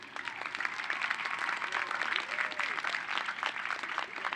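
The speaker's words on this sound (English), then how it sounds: "Let's give them all a cheer." An audience at a university freshman convocation breaks into sustained applause and cheering, a dense continuous wash of many hands clapping with scattered voices calling out, steady and fairly loud throughout.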